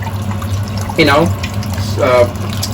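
Cold water pouring from a tap over potatoes in a cooking pot, two short splashing bursts close by over a steady background hum.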